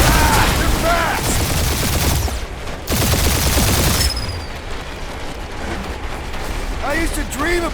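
Heavy turret fire in the Guardians of the Galaxy video game: loud, dense bursts of rapid shots and booms that rumble on for several seconds, with brief voices breaking in at the start and end.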